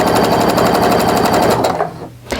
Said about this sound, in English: you just lift up your presser foot, slide it under, and sew